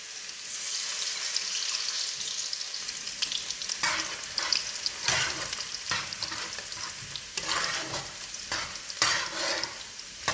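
Garlic frying in a pan for adobo, a steady hiss of sizzling oil with repeated scraping stirs scattered through, close and fairly loud, with no talking.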